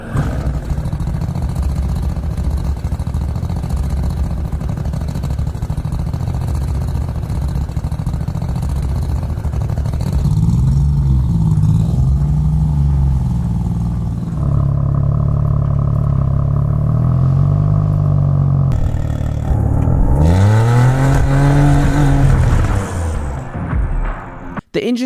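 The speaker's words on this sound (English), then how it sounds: "The TFG exhibits a big bore, big stroke design that delivers a distinctive and powerful exhaust note, reminiscent of a Harley, with an additional cylinder." A Koenigsegg TFG 2.0-litre three-cylinder engine with a big-bore, big-stroke design and no camshafts idles with a deep exhaust note, then revs up and down in several sweeping blips toward a high redline, loud and close.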